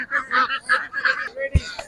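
Domestic ducks at a market give a quick run of nasal honking quacks, close and loud, ending in a thump.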